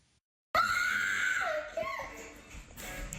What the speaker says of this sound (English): At 4 years old, this little girl screams for hours.